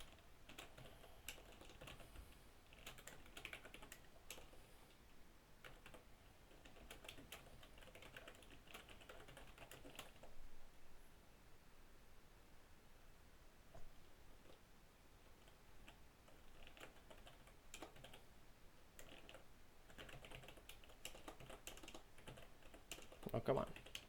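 Soft, quiet keystrokes tapped out on a computer keyboard in irregular bursts across the whole stretch, with a few louder clicks near the end and no one talking.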